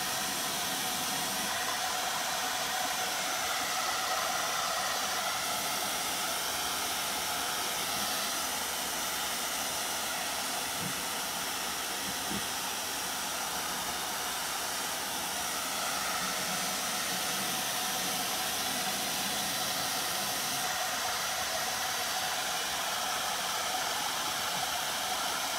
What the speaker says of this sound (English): obviously hitting it with the blow dryer, trying to just get it dry enough